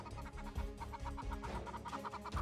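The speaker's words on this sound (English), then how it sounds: "Oh, chicken." A chicken clucking in quick, repeated bursts, fairly close and heard alone against a soft background.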